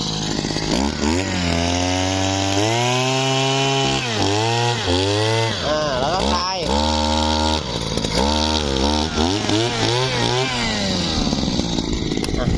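A secondhand Japanese Mitsubishi TL33 two-stroke 33cc petrol earth auger with a 6-inch bit drills holes in soil, its engine loud and close, revving up and down repeatedly in surges over about twelve seconds.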